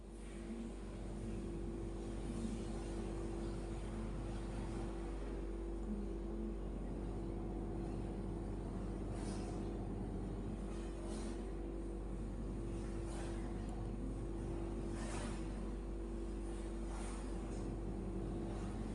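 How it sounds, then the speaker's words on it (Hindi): A sewing machine stitches along double-folded fabric to make blouse piping, giving a steady, continuous motor whir that runs unbroken from start to finish with no talking. "फैब्रिक को डबल फोल्ड करके अब ऊपर से सिलाई करेंगे।"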